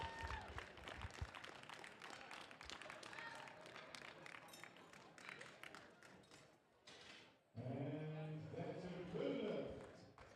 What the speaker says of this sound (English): Big round of applause, please, for your 105 kilo class.